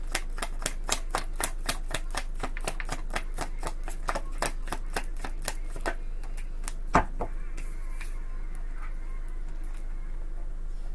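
Tarot cards are shuffled by hand in a rapid series of crisp riffling clicks for about six seconds, then quieter scattered card handling follows.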